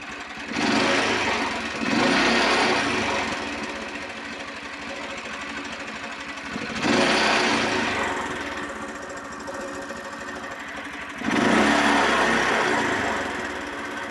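A petrol engine on a Chinese walk-behind tractor with a quiet muffler revs up in three long surges, dropping back to a steady idle between them, buzzing and fairly loud.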